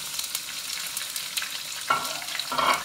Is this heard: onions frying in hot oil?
yes